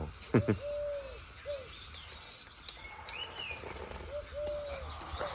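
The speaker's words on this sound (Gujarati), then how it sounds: "જો પક્ષીઓનો અવાજ બીજો કોઈ અવાજ નહીં" Several birds call outdoors on a village farm, with soft cooing and a few whistled chirps spread across a quiet rural background, moderately close.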